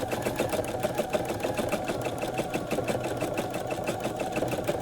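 A sewing machine hums loud and close as it stitches free-motion embroidery with variegated thread, its fast, even needle beat running unbroken throughout.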